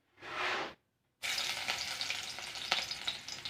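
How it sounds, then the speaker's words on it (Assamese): Onions dropped into hot oil in a home kitchen sizzle and crackle loudly and steadily after a short gap, preceded by a brief burst of hiss. "এয়া তেল গৰম হৈ গ'ল। এতিয়া পিঁয়াজখিনি দি দিম তাত।"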